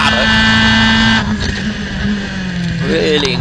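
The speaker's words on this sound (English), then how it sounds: "Over 90 miles per hour these Formula 3 cars going through Paddock." Old Formula 3 racing cars scream through Paddock Hill Bend at Brands Hatch at over 90 mph, high engine whines shifting pitch as they pass close and loud. A commentator talks over the engines.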